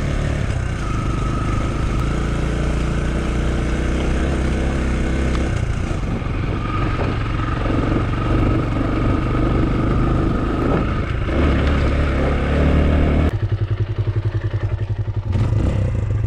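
A kulong-kulong motorized tricycle churns through muddy farm ground, its engine droning loudly and steadily throughout, with clattering and thumping from the body and a shift in engine note near the end.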